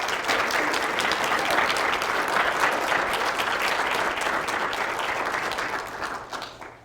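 A lecture audience claps steadily and loudly for several seconds in a warm welcome for a guest speaker, the applause holding even before it thins and fades out at the end.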